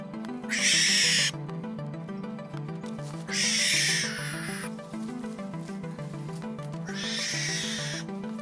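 A barn owl gives three loud, harsh rasping screeches at intervals, each lasting under a second, over a steady low rhythmic background hum.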